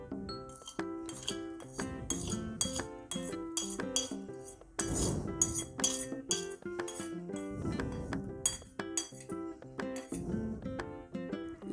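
A cooled tempering is stirred into a mix of vegetables for pickle, producing rapid, repeated metallic clinks and clatters of a spoon against a bowl, close and fairly loud, continuing without pause.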